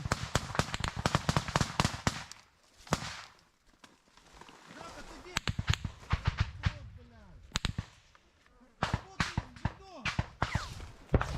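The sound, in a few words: gunfire in a firefight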